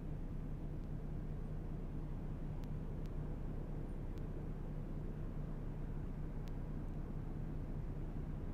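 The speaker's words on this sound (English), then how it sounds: "Got a helicopter over there." A helicopter flies near a truck in American Truck Simulator, a steady low droning rumble that blends with road and engine noise, with a few faint clicks and no talking.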